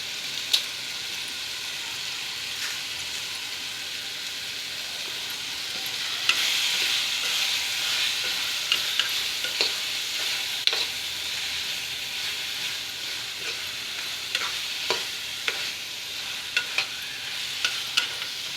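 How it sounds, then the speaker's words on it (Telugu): Onions for a raw mango curry fry on low heat in a pan, with a steady moderate sizzle and occasional sharp ticks of a spoon scraping the pan. "ఈ ఉల్లిపాయ పచ్చివాసన పోయినంత వరకు మనం దీన్ని కొంచెం సిమ్మిల్లో వేగనిద్దామండి"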